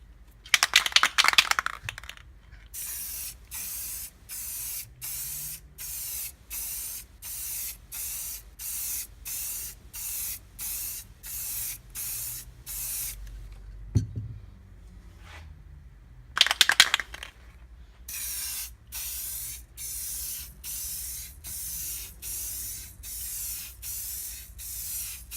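Clear coat is sprayed onto a Polaris XCR 440 snowmobile part in a long run of short, evenly spaced hissing bursts, close and steady, with one brief pause midway and no voices.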